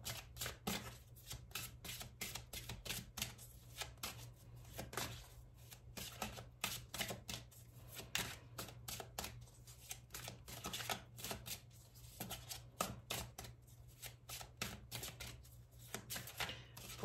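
A deck of tarot cards shuffled over a table, fast riffling flicks repeating in a dense, steady rhythm, faint and close under a low background hum.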